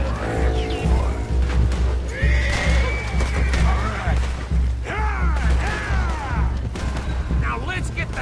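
Horses neigh and whinny during a Red Dead Redemption 2 town escape, several loud calls rising and falling over clip-clopping hooves, rumbling background action and a shouting voice.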